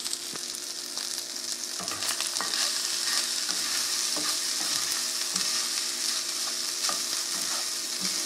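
Rice stir-frying in hot oil in a pan gives a steady, dense sizzle that runs throughout, with small scraping and tossing clicks from stirring; no voices are heard.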